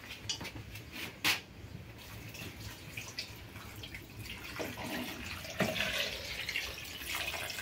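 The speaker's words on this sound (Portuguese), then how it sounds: "Vou botar água. Bote lá pra ferventar." Water is poured into a cooking pot for boiling goat tripe in a home kitchen, a gurgling, splashing stream with a few clanks of the pot, fairly close and moderately loud.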